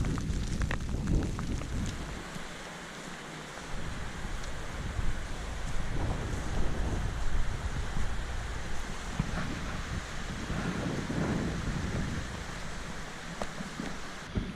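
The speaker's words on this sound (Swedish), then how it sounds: "Och så kommer det lite hagel, snö, regn, någonting." Strong wind buffets the microphone during a stormy spell of hail, snow and rain in the Sarek mountains, a continuous loud roar with gusting surges throughout.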